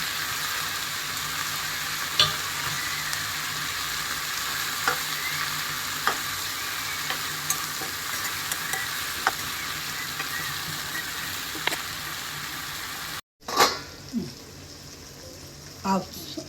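Tomato curry sizzling and frying steadily in a pan, loud and close, with occasional spoon clicks; after a brief cut the frying continues with a few stirring knocks.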